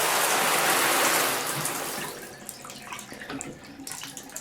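Water pouring from an older Price Pfister three-valve bathtub faucet, a loud steady gush at first that thins into lighter splashing and dripping, close by with no talking.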